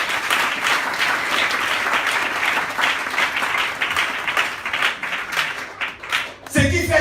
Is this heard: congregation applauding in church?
yes